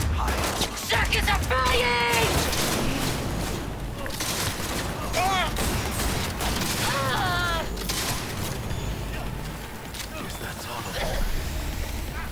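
Gunfire rattles through a firefight in the video game Cyberpunk 2077, a dense, continuous barrage of shots with booms mixed in, heard under someone talking over the action.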